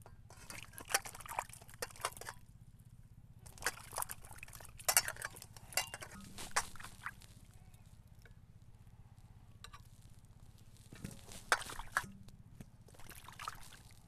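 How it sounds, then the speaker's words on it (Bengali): Tomatoes, about two kilograms, being washed in water for homemade tomato sauce, giving quiet, irregular splashes and light clattering knocks in scattered clusters with pauses between them. "এইভাবে সুন্দর করে টমেটোগুলো ভালো করে ধুয়ে নেব।"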